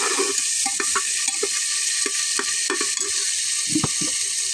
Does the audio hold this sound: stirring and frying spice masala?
yes